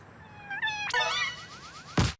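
A cartoonish cat meow in the WarioWare: Move It! video game, a short rising electronic jingle followed by a bright meow and a quick closing sting, loud and alone.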